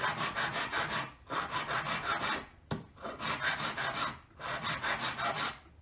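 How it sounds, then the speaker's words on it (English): Hand file worked across the surface of a metal wedding ring, steady rasping strokes in a regular rhythm, about four bursts of rapid scraping separated by short pauses, close and clear with no talking. "until I've got the whole surface evenly filed"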